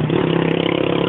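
Motorcycle engine running steadily at a mid-pitched idle with a continuous throbbing rumble, close and loud with no pauses or talk.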